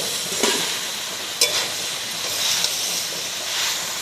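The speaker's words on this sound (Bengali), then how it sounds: "ছোলা মোচা আলু সব একসাথে সুন্দরভাবে অনেকক্ষণ ধরে কষিয়ে নিতে হবে" Chickpeas, banana flower and potato sautéing together in a pan give a steady close sizzle and hiss, with a few brief scraping stirs over the continuous frying noise and no talking.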